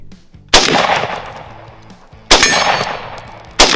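A Kalashnibren rifle is test-fired, producing three loud, sharp single shots spaced unevenly, each followed by a long ringing decay.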